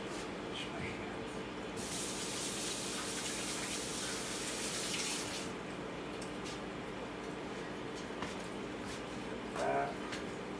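Tap water sprays into a kitchen sink for a few seconds while hands are washed, a soft steady hiss starting and stopping, fairly faint, with a voice talking nearby.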